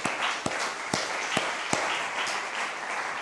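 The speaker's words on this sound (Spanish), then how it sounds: "Denle un aplauso gigante, venga, por favor." Church congregation applauding during a sermon, a moderate wash of clapping with a few sharp, distinct claps standing out, fairly close and continuous.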